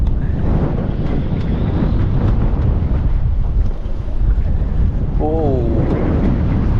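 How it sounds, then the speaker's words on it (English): Strong wind buffets the microphone throughout an outing fishing for redfin perch from a boat, a loud, constant roar with a brief voice exclaiming partway through. "that wind. It's not going to stop at all, is it?"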